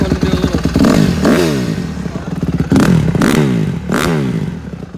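A 2020 Honda CRF150R dirt bike engine revs after a cold start, loud and close, rising and falling in repeated throttle blips over a rough idle.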